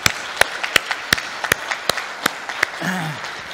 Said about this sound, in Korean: 우리 감사의 박수를 다 같이 한번 치시죠.